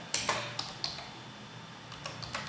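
Keystrokes on a computer keyboard while entering text in a CAD drawing program, a handful of soft separate clicks in short bursts with pauses, fairly quiet against faint background hum.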